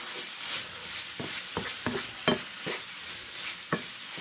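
Chicken cooking in a pan for tacos, a steady close sizzle broken by repeated clicks and scrapes of a utensil stirring against the pan, with no voices.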